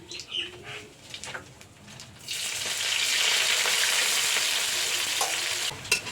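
Onion and bay leaf hit hot oil for ghugni, bursting into a loud, sustained sizzle after a quieter start with faint clinks and birdsong in the background.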